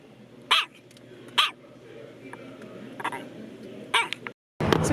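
Babu the dog barks in sharp, separate bursts, four or five loud yelps spread over a few seconds over a low background hum.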